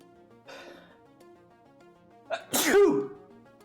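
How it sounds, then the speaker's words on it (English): A single loud, sharp sneeze bursts out after a brief quieter vocal sound, with a short gasping intake just before it. "Boy, I really had to sneeze there."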